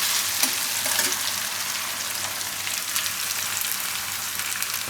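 Eggplant pieces frying in hot oil for baingan fried rice, a dense, crackling sizzle that holds steady throughout, loud and close with no talking.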